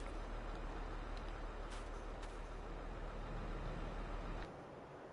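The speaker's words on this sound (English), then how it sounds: "We'll leave the engine running." A tractor engine idles in a farming video game, a constant low rumble with a broad noisy hiss that holds steady, then drops slightly near the end; no talking.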